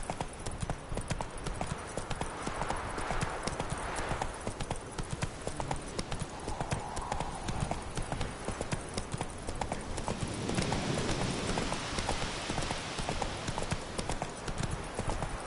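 Roach, the horse in The Witcher video game, gallops with a steady, rapid clip-clop of hooves that runs the whole way through, fairly close and loud over a continuous game soundscape, with no voices.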